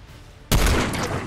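A sudden loud burst of sniper gunfire in Fortnite erupts after a quiet moment, its dense crackling rumble sustaining to the end.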